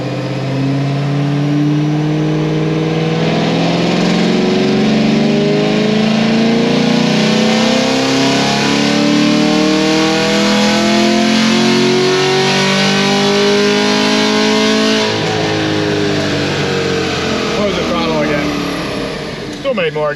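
A car engine fitted with an aftermarket cam and headers revs hard on a dynamometer, rising steadily in a loud sustained pull, then the throttle shuts high in the range and the note drops away near the end.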